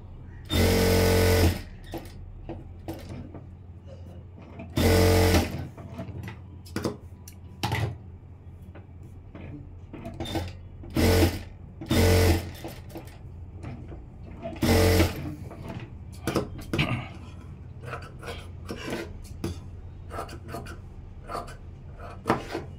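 A sewing machine stitching a blouse runs in several short, loud bursts, each a second or so long, separated by quieter stretches of cloth handling and small knocks.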